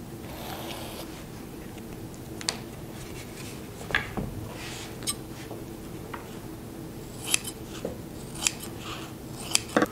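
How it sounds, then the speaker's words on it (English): Upholstery foam for a round-back leather seat cushion is cut to size, with faint repeated snipping and slicing sounds at irregular intervals over a low steady background. "go ahead and trace it out so we can cut that to size"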